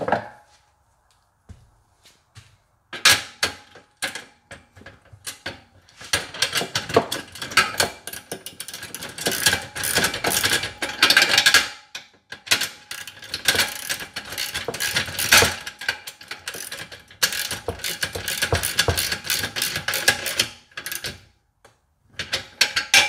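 Bolts are tightened on Haul-Master 1400 lb folding steel ramps, with close, busy bursts of ratcheting and metallic clicking in uneven runs separated by short pauses.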